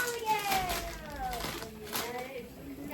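Several young children shout and chatter over one another in the background, with squeals and whiny, quarrelsome cries rising and falling throughout.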